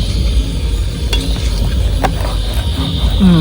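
Mutton being stirred and sautéed in a pan for a kosha-style curry at an outdoor picnic, a steady close sizzle with scraping strokes of the spoon and a few sharp knocks against the pan.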